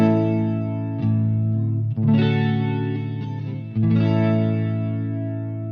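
Guitar run through a Boss DC-2 Dimension C chorus pedal, sustained chords shimmering with a wide, lush doubling, a few strums ringing out close and clear with no talking.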